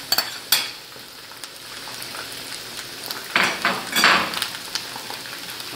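Onion, bell pepper and pineapple fry in oil in a pan, giving a steady close sizzle broken by stirring scrapes and clinks of utensil against pan, with louder bursts of sizzling toward the end.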